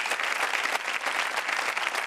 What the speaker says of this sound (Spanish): El aplauso es exagerado, creo yo.